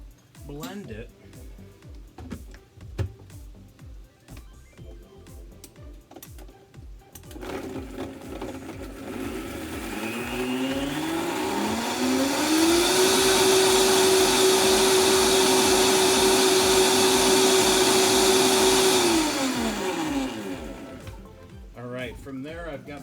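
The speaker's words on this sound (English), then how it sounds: "we're just going to blend it" A blender whirs up meatball ingredients with salt and black pepper, its motor rising in pitch to a loud, steady high whine for several seconds before winding down, with clattering handling noises before and after.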